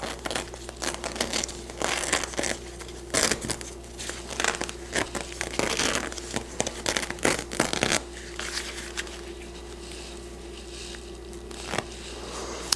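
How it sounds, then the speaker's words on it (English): Flock appliqué material is ripped away by hand while still hooped in an embroidery machine, a close series of crinkly tearing bursts and rustles that fade to quiet near the end. "I'm just going to rip it right while it's hooped up."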